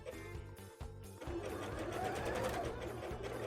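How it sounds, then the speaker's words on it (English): A sewing machine stitches fabric for a bra, running in a quick, even mechanical rhythm. A brief pause breaks it before it resumes more loudly and continues steadily, close by and without talk. "Well, Jelly, if you don't up the feed, your fabric can't move."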